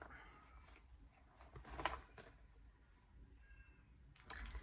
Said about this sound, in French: Je suis encore désolée pour mon chat qui est en chaleur.